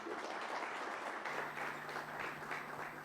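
Steady applause from a seminar audience rolls on throughout, fairly faint and even, with a faint electrical hum joining partway.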